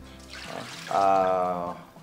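Water poured over mutton being rinsed in a bowl, a short gurgling splash that swells midway and holds for about a second before tapering off, close by and indoors.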